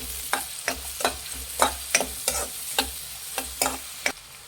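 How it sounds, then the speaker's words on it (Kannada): Finely chopped onions frying with cinnamon pieces for butter chicken, stirred in the pan with a regular rhythm of about a dozen spoon scrapes over a low sizzle, close and with no talking. "3 ಈರುಳ್ಳಿ, ಸಣ್ಣದಾಗಿ ಹಚ್ಚಿರೋಂಥ 3 ಈರುಳ್ಳಿ. ಫ್ರೆಂಡ್ಸ್, ಮಿಕ್ಸ್ ಮಾಡಿ"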